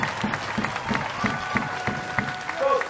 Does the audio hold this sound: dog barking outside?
no